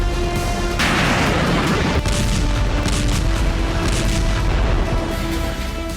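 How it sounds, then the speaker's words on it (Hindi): Aerial bombardment explosions in Gaza, a dense continuous roar of heavy booms and rumbling blasts that stays loud throughout, with a sharper burst of debris-like crackle near the start. "आसमान से होती ये बमबारी गाजा के कोने कोने को तबाह किए बिना नहीं थमेगी।"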